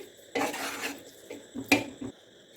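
Spoon scraping and clinking against a pan while ghee is stirred into a thick peda mixture, a broad rasping burst followed by a few sharp metallic taps, close up.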